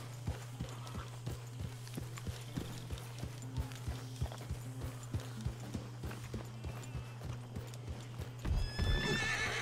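Horses walk along in Red Dead Redemption II, their hooves clip-clopping in an even, steady rhythm close by, with a louder neigh bursting out near the end.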